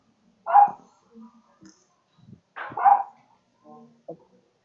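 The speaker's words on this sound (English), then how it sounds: "I know you can hear the dog barking" A dog barks at a home, giving two distinct barks about two seconds apart, moderately close against a quiet background, each followed by a few softer yips.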